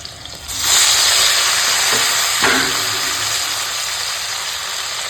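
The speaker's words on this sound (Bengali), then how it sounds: "আলুগুলো এরকম হালকা ভাজা হয়েছে এখন দিয়ে দেবো টমেটো" Lightly fried potatoes sizzle loudly in a pan as tomatoes are added, the hiss swelling suddenly and then holding as a steady, close frying roar.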